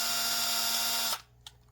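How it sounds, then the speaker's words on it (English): A power driver whirs steadily and loudly as bolts are backed out of a Geissele rail on a Colt 6920 upper, then cuts off abruptly, followed by a single faint click. "I'm gonna go after these two bolts. So I'm just gonna unscrew them"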